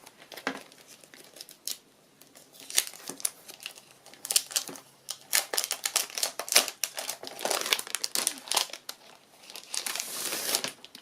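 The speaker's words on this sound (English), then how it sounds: "it's a bit glary with the plastic still on it. I take that off." Close, faint crackling and crinkling as plastic film is peeled off chipboard stickers, in irregular bursts of rustle with short quiet gaps and no talk.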